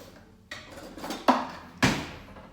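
Kitchen utensils clattering as someone rummages for a whisk, three sharp metallic clanks of pots and cutlery close by, rising in loudness, with no talking.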